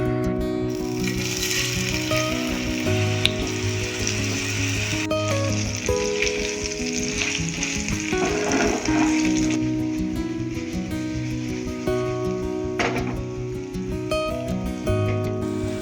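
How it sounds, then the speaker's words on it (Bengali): Soybean chunks fry in hot oil over a medium flame, giving a steady, close sizzle with occasional crackles and stirring, while a faint tonal hum continues underneath. "এটা এদিকে আস্তে আস্তে মিডিয়াম ফ্লেমে ভাজা হোক"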